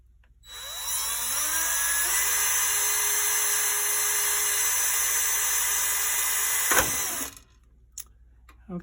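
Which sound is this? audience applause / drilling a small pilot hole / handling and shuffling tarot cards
drilling a small pilot hole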